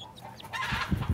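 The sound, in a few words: young chicken chick clucking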